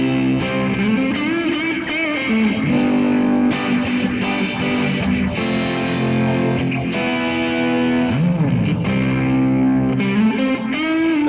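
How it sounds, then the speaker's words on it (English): An electric guitar plays chords and sliding notes through a phaser pedal's swirling, sweeping effect, with a slightly distorted shoegaze tone, loud and continuous with no talking. "Go to the last one, the phaser."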